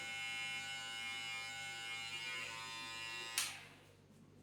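Electric hair clipper buzzing steadily and close while cutting hair top to bottom along the side of the head, its even hum cutting off abruptly near the end.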